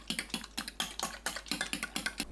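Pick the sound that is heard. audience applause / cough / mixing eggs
mixing eggs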